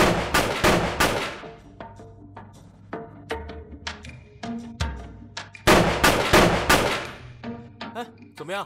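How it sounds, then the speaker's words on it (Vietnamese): Roughly ten gunshots fired in a rapid irregular volley, sharp and loud, with a second burst after a short pause and some metallic clanks between shots. "10 phát súng."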